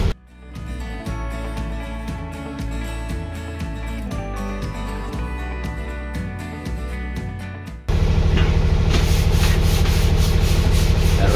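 Bathroom walls being sanded inside a bus under camper conversion, with a generator running: continuous rasping, scraping noise that turns harsher and louder near the end, with no talking.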